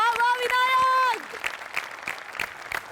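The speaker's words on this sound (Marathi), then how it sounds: "प्रचंड टाळ्या" At a Marathi comedy show, a voice lets out a long, drawn-out exclamation, then the audience claps in scattered bursts that fade.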